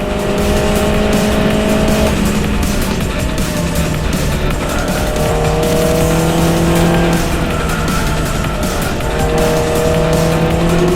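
Loud race cars, including a tuned MINI, roar past on a straight at Tsukuba circuit in a sustained stream, engines droning and shifting pitch with occasional tire squeal, close and continuous.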